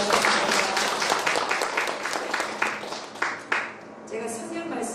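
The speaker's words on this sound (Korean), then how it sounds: "먼저 우리 하나님께 영광의 박수 함께 드리겠습니다." A congregation at a Korean theological seminary lecture claps in praise, a steady burst of applause that fades after a few seconds, with a voice speaking underneath and continuing after the clapping ends.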